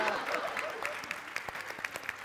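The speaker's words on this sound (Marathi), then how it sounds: "याबद्दल जोरदार टाळ्या वाजवल्या पाहिजेत" Studio audience at a Marathi comedy show clapping, a brief, fairly quiet burst of scattered handclaps with a few sharper claps standing out near the end.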